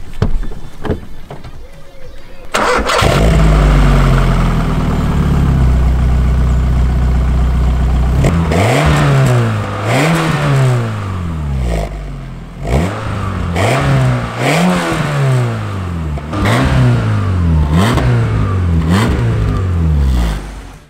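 A Rover 100 car fitted with a Rover 25 1.8-litre 16-valve engine starts, idles briefly, then revs repeatedly in sharp rising-and-falling bursts, loud and close, with a short pause between runs.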